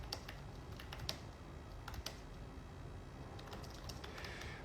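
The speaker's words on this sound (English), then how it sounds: "I'll just type a little bit." Typing on a computer keyboard, a quiet irregular patter of key clicks with a few sharper taps, close but low in level.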